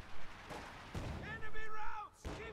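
An infantry support gun fires in the Company of Heroes 2 strategy game, set in a wartime blizzard, with three heavy booming thumps spread apart and a high whistling tone rising between them.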